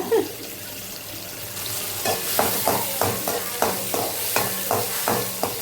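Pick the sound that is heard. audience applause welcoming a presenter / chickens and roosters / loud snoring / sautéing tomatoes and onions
sautéing tomatoes and onions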